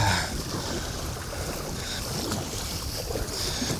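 Strong wind buffets a small fishing boat on a lake with whitecaps, a loud continuous roar of gusts and wind noise with some water sloshing underneath.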